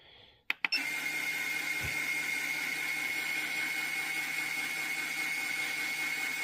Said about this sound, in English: Now you see how it's just trickling the last little bit in.